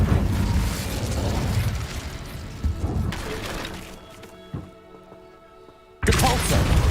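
Incendio fire spell in Hogwarts Legacy, with loud burst-like whooshes and rumbling blasts amid clattering mechanical game sounds, then a brief lull before another loud burst.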